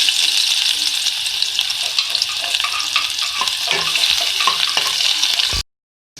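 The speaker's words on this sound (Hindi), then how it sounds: "इसकी फिलिंग के लिए सबसे पहले मैं ऐड करूँगी ऑयल में 1 खाने का चमचा कुटा हुआ अदरक" Crushed ginger-garlic paste frying in hot oil, a continuous bright sizzle with some stirring clatter, close and steady for several seconds before cutting to silence.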